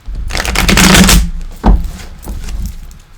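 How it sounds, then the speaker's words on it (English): A deck of cards riffle-shuffled in a dense burst of rapid flicks, followed by a sharp tap and a quieter second riffle, close up. "Okay, let me shuffle."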